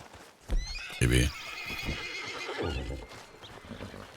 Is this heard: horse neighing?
yes